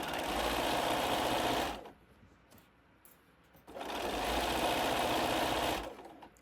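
A sewing machine with a regular presser foot stitches around the edges of a knitting bag in two loud, sustained runs separated by a quieter pause of a couple of seconds.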